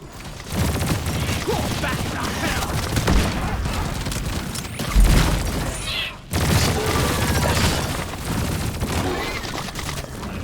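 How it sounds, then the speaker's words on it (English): Breach cutter weapon firing in the Deep Rock Galactic game, repeated loud blasts and impacts over dense combat noise, with someone talking over the action. "here's the breach cutter in action"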